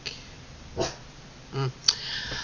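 A dog barks a few times indoors at something fallen from a tree outside, short sharp yips spaced apart with a faint background hiss.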